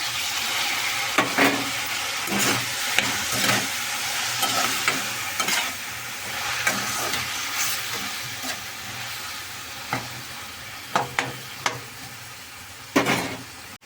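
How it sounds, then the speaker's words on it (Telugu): Onions and tomato pieces sizzle steadily in a pan while a spoon stirs them in repeated scraping strokes, a close continuous frying hiss with occasional louder clacks. "ఉల్లిపాయలు కొంచెం మగ్గుతున్నాయి కదండి, టమాటా ముక్కలు కూడా వేసేసుకున్నాం."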